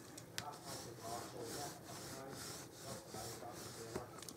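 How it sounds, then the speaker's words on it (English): Paper being burnished down firmly on a stamped card, a steady soft rubbing and scraping that runs continuously at close range, with slight pulses in its strokes. "And burnish that down really well, and burnish it down really well on the inside."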